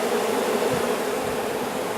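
Many bees hum inside a tree during a trap-out, a steady, low, continuous buzz that stays even and fairly faint with no voices.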